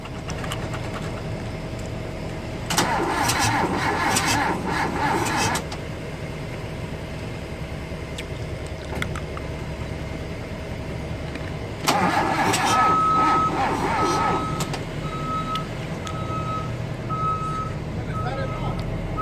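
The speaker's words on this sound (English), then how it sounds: "All you need is to keep bleeding the clutch, add the battery, and ready for the first start." A rebuilt Mazda B2000 2.0 engine cranks in two bursts separated by a quieter stretch, with a steady low drone underneath, a chain of short repeating beeps toward the end and voices talking nearby.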